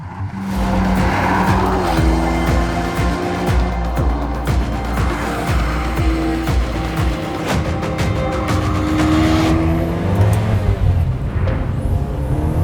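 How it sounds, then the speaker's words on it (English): Gruff, noisy engine of a driver-focused car under way, loud and close, with gear changes, revving harmonics and some tire noise across the stretch. "Start this car up and it sounds gruff and industrial. It's noisy, fidgety and unfiltered."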